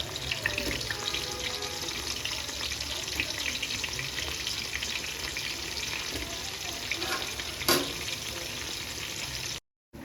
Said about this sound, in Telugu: ఆ మరుగుతున్న నూనెలో ఉల్లిపాయలు వేసుకోవాలి